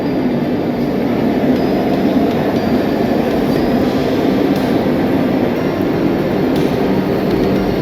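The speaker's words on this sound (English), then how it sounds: "the Vande Bharat, Veerawal Sabarmati Vande Bharat on its maiden journey" A Somnath–Sabarmati Vande Bharat Express on its maiden run gives off a steady, loud rumble of rolling train noise that holds evenly throughout, with no talking.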